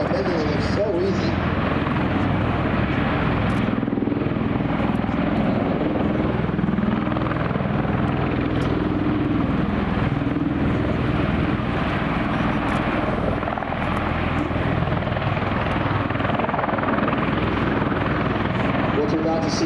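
A V-22 Osprey tiltrotor thunders steadily overhead at the Beale Air and Space Expo, its loud rotor drone continuous and dense throughout a 360-degree turn, with a crowd and announcer voice faintly under the roar.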